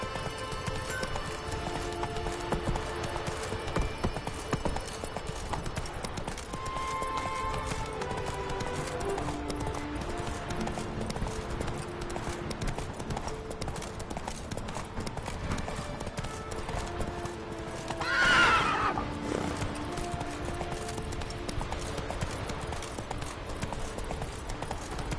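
Roach the horse gallops in a video game, hooves clip-clopping in a steady, fast rhythm under continuous music, with a brief louder burst near the end that may be a neigh.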